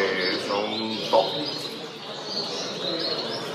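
Gloster canaries chirp and trill at a Gloster canary championship show in Jaén, a steady chorus of many birds with a brief sharper call, faint background voices beneath.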